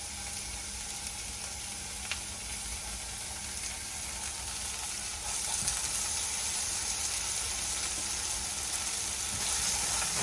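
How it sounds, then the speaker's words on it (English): Chorizo frying in a hot pan with a little oil, a steady close sizzle with watery hissing that swells louder partway through, no talking. "the first thing we want to do is we want to go ahead and cook our chorizo"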